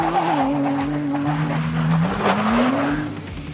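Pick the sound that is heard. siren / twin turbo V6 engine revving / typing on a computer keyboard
twin turbo V6 engine revving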